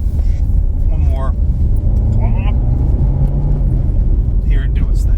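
A 2004 Toyota Corolla engine with 127k miles runs with a steady low rumble throughout, and muffled voices drift in briefly over the drone.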